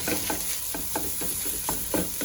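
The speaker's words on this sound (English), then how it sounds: "we're just gonna break up our meat until it cooks up" Sausage meat for a copycat Zuppa Toscana fries in a pan while being broken up, a continuous sizzle punctuated by a regular rhythm of close scraping and stirring strokes about every third of a second.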